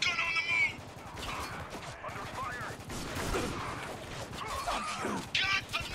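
Gunfire in the war shooter Spec Ops: The Line, including shotgun blasts, cracks repeatedly through a busy battle mix of shots and mechanical clatter, with voices heard now and then.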